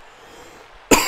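A single sharp cough bursts in near the end after near silence, loud and close.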